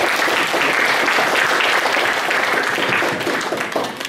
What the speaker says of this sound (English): Please give big applause to Dr. Rasosfield.